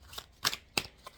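Tarot cards are drawn and handled, giving three or four quick, soft papery slaps and rustles close by, with short gaps between them.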